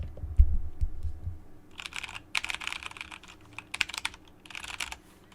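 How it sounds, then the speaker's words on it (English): Typing on a computer keyboard, captured by a TONOR TC-777 USB microphone: bursts of rapid, close key clicks start after a low thump and continue in irregular clusters with short pauses. "This is just me typing regularly."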